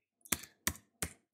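Numbers keyed in on a computer keyboard while setting rectangle dimensions in SketchUp: three sharp, evenly spaced key presses followed by a softer fourth tap, close and clear in a quiet room.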